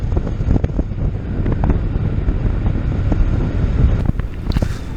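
Steady, loud wind buffeting across a rider's helmet on a Triumph Bonneville T120 motorcycle fitted with a Puig semi fairing, a continuous low roar with gusty fluctuations throughout and no talk.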